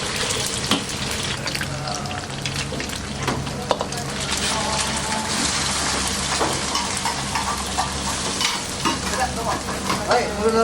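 Steady loud sizzling and stirring of fried rice in a hot wok at a busy Hokkaido ramen diner, with scraping clatter and a running tap in the background, no talking.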